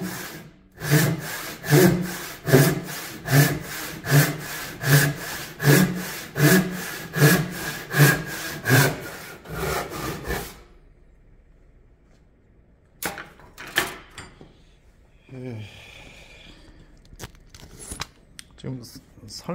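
A hand saw cutting through wood in steady back-and-forth strokes, about sixteen rhythmic rasps close up, then stopping, followed by a few scattered scrapes and rustles.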